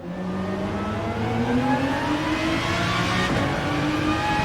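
A race car engine in Gran Turismo 7 accelerates out of the pits in wet weather, a loud steady rising drone with climbing whine, close and continuous without talk.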